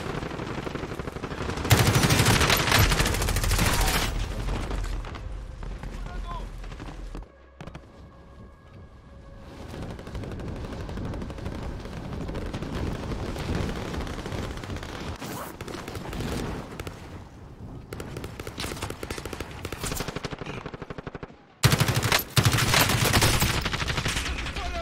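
Gunfire in Call of Duty Warzone, loud sustained bursts of automatic and rapid shots with brief pauses and lulls between volleys, close and harsh throughout.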